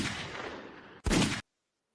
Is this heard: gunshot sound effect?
yes